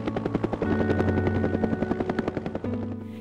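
A helicopter flies close by, its rotor giving a loud, steady rapid chop with a sustained engine drone, in the Adirondacks where it carries brook trout for air stocking into lakes and ponds.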